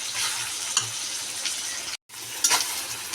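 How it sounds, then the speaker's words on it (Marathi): Tomato and onion cook in a pan for dry chicken, a steady hissing sizzle with occasional spoon clinks, broken by a brief drop to silence, and no one speaks. "तरी आपल्याला टॅमॅटो चांगला मऊ होईपर्यंत आपल्याला शिजवून घ्यायचं आहे."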